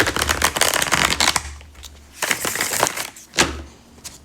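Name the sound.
shuffling a deck of tarot cards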